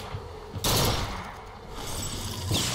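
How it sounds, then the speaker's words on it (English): Two sharp bursts from a burst rifle in Bioshock Infinite, each a quick cluster of loud shots, spaced about two seconds apart over low background game ambience. "that's a burst rifle"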